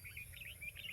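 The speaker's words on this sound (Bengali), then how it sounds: "পাখিদের কিচিরমিচির।" Birds chirp on a quiet hillside in the early morning, a steady run of repeated high tweets over a low rumbling background, with no talking.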